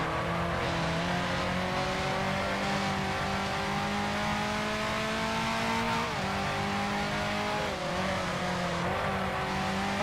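A 1955 Ferrari Tipo 625 Grand Prix race car at Zandvoort in a racing sim: a loud, steady engine howl that holds near, its pitch climbing and dropping sharply through gear changes.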